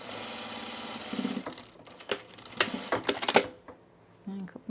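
A sewing machine stitches elastic into a dress in short bursts, stopping and restarting several times with quiet handling noises between runs, fairly close and alone.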